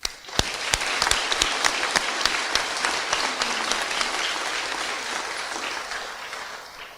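A graduation ceremony crowd breaks into sustained applause, with sharp individual claps standing out near the start over a thick, even roar that slowly eases toward the end; nobody speaks.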